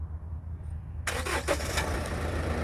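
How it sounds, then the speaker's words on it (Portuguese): Chevrolet S10 LTZ 2.8 turbodiesel started by remote key: after a quiet second the starter catches with a sudden burst and a few cranking pulses, then settles into a steady diesel idle. "a partida já dá no carro direto aqui pela chave"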